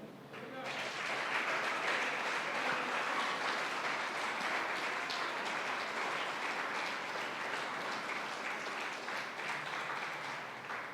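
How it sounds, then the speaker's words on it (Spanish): Church congregation applauding during a sermon, a dense, steady wash of many hands clapping that swells in after a brief pause and holds evenly, fairly loud and close, for about ten seconds with faint voices mixed in. "Dale un aplauso al Rey."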